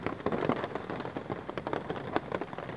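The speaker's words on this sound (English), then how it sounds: "It's raining." Steady rain patters densely on a tarp shelter up on Dartmoor in cloud, a close, continuous crackle of drops with no talking.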